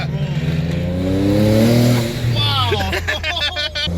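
A twin-turbo Infiniti G37 coupe engine revs loudly and close, its pitch climbing and falling through a rev, with excited voices speaking over the engine near the end.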